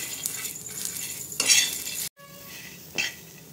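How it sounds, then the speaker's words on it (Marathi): Fresh green mung bean pods dry roasting on a hot griddle without oil make short scraping and clinking stirs over a soft sizzle, with a brief silent gap midway. "आता आपण हे मुग भाजून घेऊ।"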